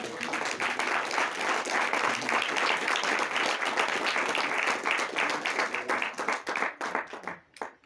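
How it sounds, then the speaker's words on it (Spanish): Church congregation applauding during a Sunday sermon, dense overlapping claps sustained for several seconds at steady loudness, then thinning into scattered individual claps before fading out. "¿Cuántos dan un aplauso al Señor por su gracia?"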